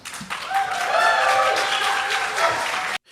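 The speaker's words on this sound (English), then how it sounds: "Clap, sheep, clap." Audience applause at a live debate, a dense burst of clapping that holds steady for about three seconds and then cuts off abruptly.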